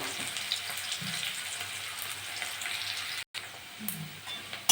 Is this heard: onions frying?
yes